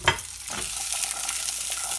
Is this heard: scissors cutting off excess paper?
no